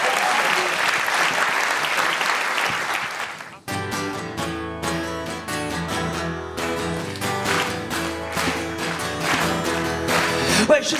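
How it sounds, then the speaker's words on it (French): Audience applause at a Paris comedy show, a dense burst of crowd clapping for about four seconds that gives way to music playing loudly for the rest. "On l'applaudit, on l'encourage."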